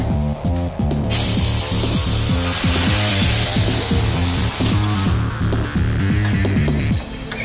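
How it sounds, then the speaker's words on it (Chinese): A pneumatic impact tool loosens the nuts on a lowered car's camber and toe alignment arms, hammering in a steady rapid rattle of close, loud bursts that continue almost without pause, with a high hiss running through the middle. "先把两个都先把螺丝母的部分松掉"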